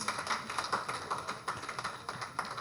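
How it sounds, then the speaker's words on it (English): Audience hand claps at a Ugandan education ministry event announcing 2024 UCE exam results, a moderate, fairly steady patter of clapping with distinct beats, heard from within the crowd. "Hand clap for the Ministry of Education and Sports."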